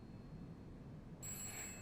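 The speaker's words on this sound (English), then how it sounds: "and the phone rang." A landline telephone begins ringing partway through, a bright electronic ring that starts abruptly over a steady low room rumble.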